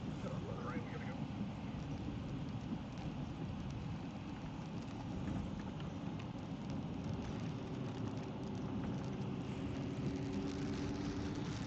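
Heavy rain falls during a severe Alabama storm, a constant, even hiss of rain that continues throughout and stays fairly soft, with faint voices beneath it.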